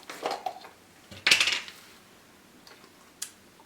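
A spoon clinks against plates and dishes while horseradish and mayo sauce is served: a few bright metallic clatters, one louder rattle in the middle, then a small tap near the end.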